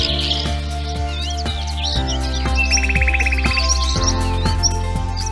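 Songbirds on open moorland, a breeding ground for grey warblers, magpie shrikes and tree pipits, give bright chirps, trills and a quick rattling phrase close by, over a steady musical drone.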